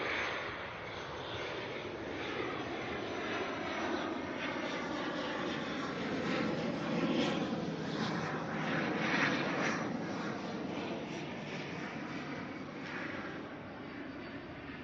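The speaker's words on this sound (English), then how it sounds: "Got an ATR here coming in from Rotorua." An ATR turboprop airliner arriving at Auckland Airport from Rotorua, its steady engine drone holding moderately loud and constant throughout, swelling slightly midway with no talk over it.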